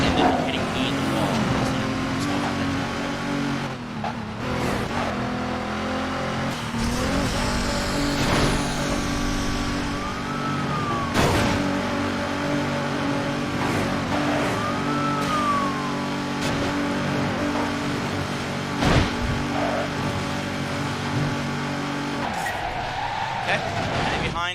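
Racing cars in the Midnight Club 3 video game drive hard, with engines revving loudly and steadily throughout, tires skidding, and brief impacts. A voice talks over the game sounds.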